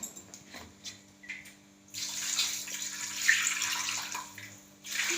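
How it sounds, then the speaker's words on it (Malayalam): Water runs steadily into a container for a few seconds, a hissing pour that starts abruptly after some faint clatter and stops near the end. "നമുക്കിനി ആവശ്യത്തിന് വെള്ളം ഇട്ടിട്ട് ഇത് വേകാനുള്ള വെള്ളം"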